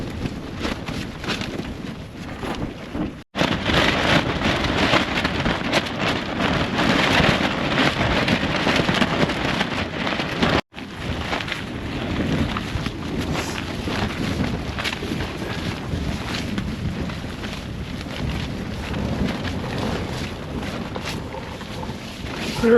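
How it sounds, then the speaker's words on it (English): Strong desert wind roars steadily against a tent on a rabbit hunting trip, a loud continuous rushing buffet with brief dropouts, no talking. "A lot of times when we get wind like this,"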